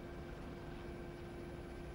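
A helicopter in a flight simulation game drones with a steady, low, moderately loud rotor and engine rumble, unbroken throughout, with no talking.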